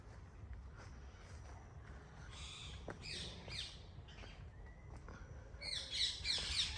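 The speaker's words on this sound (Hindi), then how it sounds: "ये देखो बिल्कुल तुम्हें पेड़ों के नीचे लेके जाता हूँ जहाँ ये पक्षी बात कर रहे हैं।" Birds call and squawk from the trees above a woodland path near a farmhouse, with scattered chirps that build into a busier burst of calls near the end over a low background rumble.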